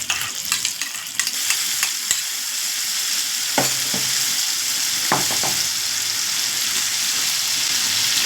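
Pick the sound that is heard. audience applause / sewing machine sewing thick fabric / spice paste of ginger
spice paste of ginger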